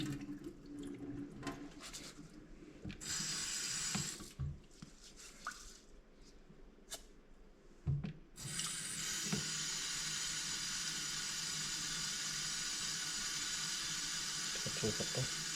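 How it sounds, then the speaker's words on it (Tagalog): Rice is rinsed under running water in a kitchen sink, a splashing tap stream and sloshing grains, close and fairly loud, with the flow steady for the latter half and voices faintly in the background. "Lagyan natin bigas, hugasan na natin dito."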